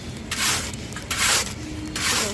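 Barley grains being roasted by hand in a pan, village style, scraped and stirred in three close, rasping strokes with brief pauses between them and no voices.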